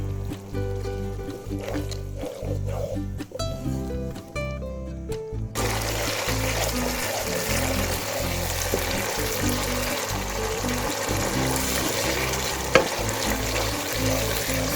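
Chicken jalfrezi sizzles and fries steadily in a pan after a tablespoon of soy sauce goes in, a dense continuous crackle that swells louder partway through and carries under a faint music bed.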